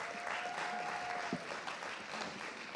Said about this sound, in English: clap it up for Wall Street West.